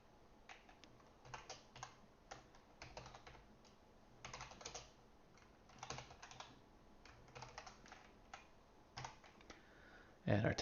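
Computer keyboard typing in short bursts of quick clicking keystrokes with pauses between runs, fairly close and moderately quiet, ending with a louder clatter.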